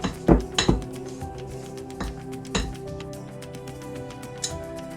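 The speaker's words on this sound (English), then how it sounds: "We need to beat these together until they become light and fluffy." Softened unsalted butter and sugar are beaten together in a bowl. Irregular clinks and taps of the utensil against the bowl ring out close by, stronger at first, then sparser over a low background.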